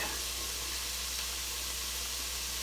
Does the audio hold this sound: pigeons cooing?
no